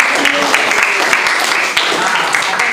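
Classroom applause for group 5: a dense, steady wash of many hands clapping together, fairly loud and continuous throughout, with a voice murmuring faintly beneath it.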